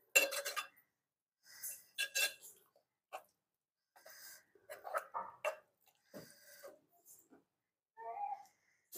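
A spoon stirs dried-prawn gongura (sorrel leaf) curry in a pan, producing faint, scattered scrapes and metallic clinks separated by quiet gaps.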